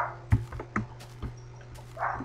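Dog in Minecraft barking, a few short separate yelps and woofs spaced through the moment over a low steady game hum, moderately loud and close.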